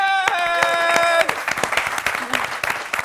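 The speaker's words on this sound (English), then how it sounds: "let's give a bigger clap to our guest, Amadou Onana." A studio audience applauding a football guest on a talk show, sharp scattered claps breaking out as a sustained musical tone cuts off, then continuing irregularly with voices mixed in.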